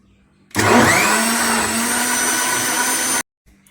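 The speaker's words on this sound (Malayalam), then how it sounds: "ഇതെല്ലാം കൂടി മിക്സിയിലിട്ടിട്ട് ഇനി നന്നായി ഒന്ന് അടിച്ചെടുത്തിട്ട് വരിക" A kitchen mixer blender whirs loudly as it blends Kannur cocktail shake ingredients, starting abruptly, running at a steady high-pitched drone for under three seconds, then cutting off sharply.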